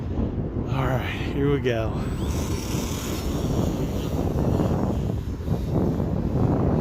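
Gusty outdoor wind buffets the microphone in a continuous low rumble, with a brief whining model aircraft engine early on and a person speaking briefly over it.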